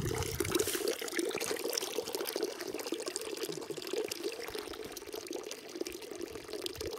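Water flows steadily from a village fountain into its stone trough outdoors, a continuous close splashing and trickling that holds an even level throughout with no voices.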